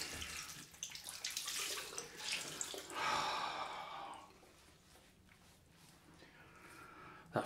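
Tap water runs and splashes into a sink for a cold rinse after a straight-razor shave, a soft, close wash of water rising and easing, with a breathy exhale partway through.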